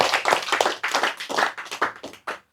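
A short burst of hand clapping, a few people applauding in quick uneven rhythm at a live religious study gathering, close and fairly loud.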